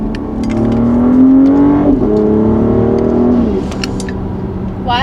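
A BMW X5 with an aftermarket sport exhaust accelerates hard. The engine note climbs loud and close, shifts gear around two seconds, then eases off as it fades.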